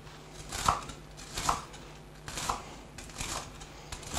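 A knife chops through bread into small pieces on a board, giving four or five crisp, evenly spaced cuts about a second apart, close and moderately quiet.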